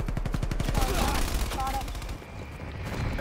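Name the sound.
gunfire from a video game shootout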